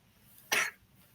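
A single short, sharp cough from a person taking part in a discussion on outer space governance, sudden against a quiet room background.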